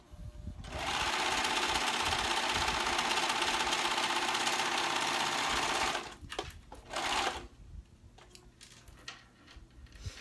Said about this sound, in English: I am gonna go ahead and serge